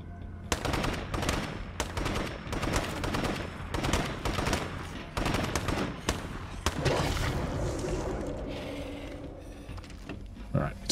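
Gunfire in the video game State of Decay 2: bursts of rapid automatic gunshots in several volleys, loud and close, followed by a rumbling tail as the shooting stops.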